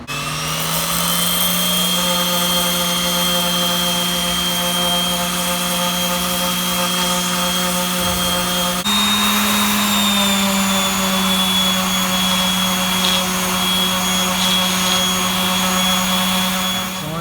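A steady, high-pitched whine from a sanding wheel with 400 to 600 grit sandpaper on an American Force wheel runs throughout, loud and continuous, with a slight shift in pitch partway through and no talking.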